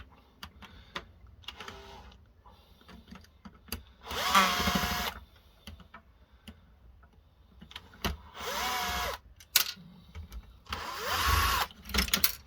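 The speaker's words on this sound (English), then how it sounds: "a couple of screws need to come undone" A power screwdriver backs screws out of a laser printer being scrapped, sounding in three whining bursts of a few seconds each, separated by quieter clicks and handling noises, close up with no talk.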